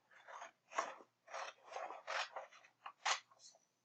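Scissors cutting paper in a diagonal line for a day and night sky craft: a series of close, crisp snips in an uneven rhythm, each a short rasping cut, with no talking.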